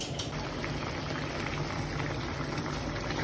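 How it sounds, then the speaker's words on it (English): Fish boiling in water in a pot for Jamaican steam fish, a steady, close bubbling and hissing simmer that holds at an even level throughout with no voices. "now we're leaving it to boil for about 15 to 20 minutes"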